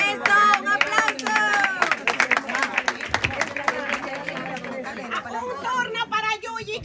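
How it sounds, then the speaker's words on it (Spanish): Clapping and cheering at a 92nd birthday party, a burst of hands that rises, thins and returns over lively overlapping chatter and voices throughout. "¡Un aplauso!"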